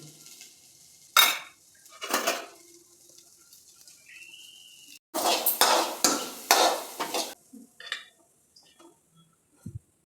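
Grated coconut being tipped into a pan of boiled green gram, with a few loud clattering bursts of pan and spoon contact, then quieter scattered scraping and taps.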